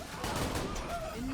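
Short burst of gunfire in Borderlands 2, a few quick sharp shots blending with game effect tones at a moderate level.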